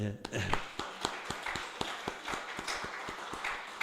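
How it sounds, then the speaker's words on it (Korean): A church congregation claps in steady unison during a Sunday service, with quick, evenly spaced handclaps over a roomy background murmur. "박수 한번 합시다."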